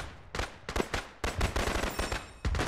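Distant sniper gunfire in the ArmA3 video game, a run of sharp shots in uneven bursts, some close together and some spaced apart, with no speech over them.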